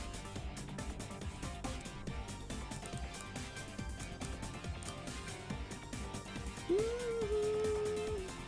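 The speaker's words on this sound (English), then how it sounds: "Dog, what are you doing?" Near the end, a dog lets out a short rising howl that holds steady for about a second, heard over steady background game or music sounds.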